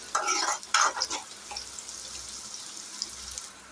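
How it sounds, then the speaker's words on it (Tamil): A few clattering stirs at the start, then a soft, steady sizzle of onions and chillies sautéing in oil. "இப்போ இது நல்லா கொஞ்சம் ஆயிலே வதங்கட்டும்"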